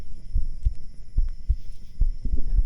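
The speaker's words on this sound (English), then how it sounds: "Your heartbeat is very strong" Strong human heartbeat heard up close through binaural microphones, a steady train of deep, soft thumps at a quick, even pace over a faint background hum.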